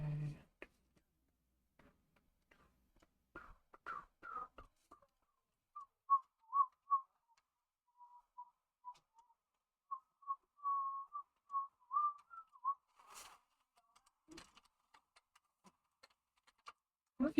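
A person whistles a short melodic tune, clear and close, with scattered soft clicks and a brief voice at the start.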